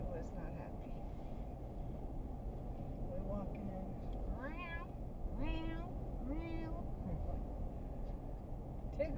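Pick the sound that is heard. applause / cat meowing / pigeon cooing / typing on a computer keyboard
cat meowing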